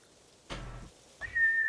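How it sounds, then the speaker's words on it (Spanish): A sharp rising whistle calls a horse in the samurai game Ghost of Tsushima, heard as one short clear tone after a brief thud, standing alone without talk. "Y el silbidete."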